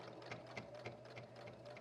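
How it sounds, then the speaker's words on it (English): A sewing machine stitches through several layers of fabric for a reusable feminine hygiene liner, running steadily at an even, moderate pace. Quiet, close and alone, with a regular rhythmic clatter. "The sewing machine likes it when you take your time too"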